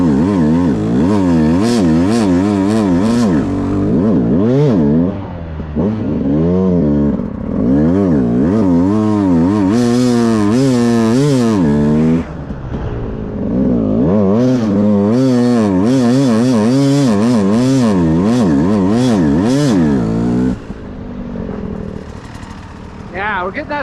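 Beta 200RR two-stroke dirt bike revving repeatedly while the brake is dragged, rising and falling in rapid wavering bursts, loud and close for an extended stretch with brief dips between runs.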